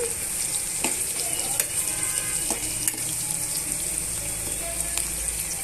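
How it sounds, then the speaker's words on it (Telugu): Chopped onions and green chilies frying in oil for chicken curry, a dense continuous sizzle with scattered spatula scrapes and clinks from stirring, steady and close throughout. "ఒక రెండు నిమిషాలు వేయించేసుకుందామండి ఇప్పుడు ఉల్లిపాయ ముక్కలు పచ్చిమిరపకాయ ముక్కలు బాగా వేగిపోయాయండి"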